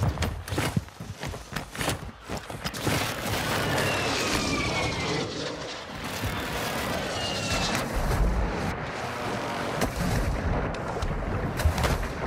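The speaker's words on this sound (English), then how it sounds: "Enemy precision airstrike inbound." Precision airstrike blasts in Call of Duty Warzone 2.0 armored royale, with repeated heavy booms and rumbling artillery impacts over sustained battlefield noise and scattered gunfire.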